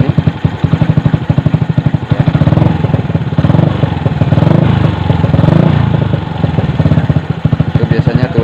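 Yamaha Jupiter MX or Vixion motorcycle engine running steadily with a rapid, even putter and mild throttle swells, loud and close throughout, during water pump seal checking.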